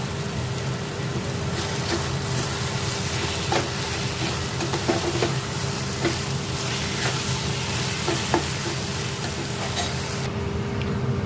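Bread frying in a pan with chopped green chili and chili powder, a dense, even, close sizzle with faint crackles throughout, alone without talk.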